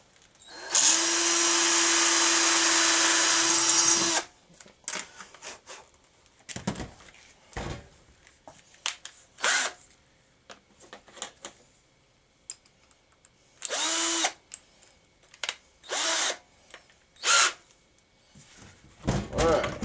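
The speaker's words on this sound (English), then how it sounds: "I'm going to go ahead and drill that out." A power drill whines steadily for about four seconds, pre-drilling a screw hole for mounting a skull in DIY taxidermy, followed by scattered clunks, handling noises and brief bursts of sound.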